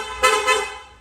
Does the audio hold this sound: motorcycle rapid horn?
yes